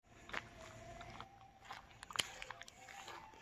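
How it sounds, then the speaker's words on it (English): A Doberman Pinscher chews and bites on something it is trying to swallow, with crunchy biting and scraping sounds at close range and a few sharper crunches partway through. "Trying to chew it and swallow it."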